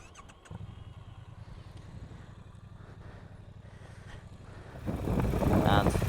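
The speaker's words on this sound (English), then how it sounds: "And as for the exhaust sound, as you can hear, it's got a nice sort of deep, throaty purr to it." A Triumph Bonneville T100 with its stock exhaust idles with a steady, low, throbbing pulse close by, giving way to louder wind-buffeted rumble near the end.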